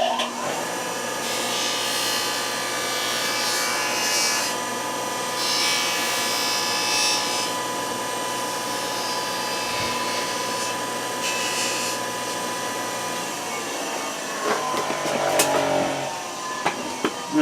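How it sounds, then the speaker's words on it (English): A grinder works the end of a steering shaft for a 1966 Chevy C20/C10 down to a point, a loud continuous high whine with shifting pitch as metal is ground, close and uninterrupted until it winds down near the end. "Let me grind it a little bit to where it can go all the way in there."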